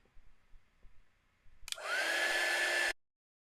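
A hair dryer blasts air onto a freshly painted Christmas card, switching on abruptly with a loud steady roar and a faint whine riding on top, then cutting off cleanly after roughly a second and a half.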